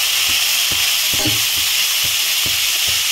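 Broad beans frying with green and dried red chillies in a pan, a loud dense sizzle with a regular beat of spatula scrapes roughly every half second.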